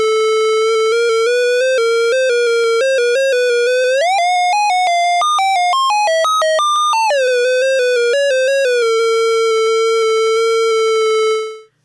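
An ARP Odyssey synthesizer oscillator with sample and hold modulating its pitch, a loud sustained buzzy tone jumping in random stair-step pitch changes, chaotic in the middle, alone.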